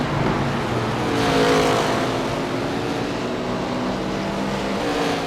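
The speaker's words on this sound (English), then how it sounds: "Several cars coming back up on the track." Several ARCA Menards Series race cars in the iRacing sim at Iowa Speedway rumble along the track after a crash, a steady loud engine drone that swells slightly midway and holds without a break.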